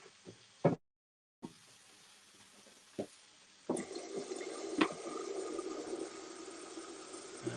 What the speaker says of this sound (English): I'm going to add some more hot water to this.